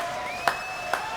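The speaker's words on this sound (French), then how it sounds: "Kathleen, applaudissements." Applause from a studio audience on a French television show, a steady hiss of clapping that cuts off abruptly, with a faint tone running underneath.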